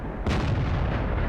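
Artillery fire in World of Tanks, a single deep booming shot that erupts suddenly and rolls off into a low rumble, loud against a constant background of game noise.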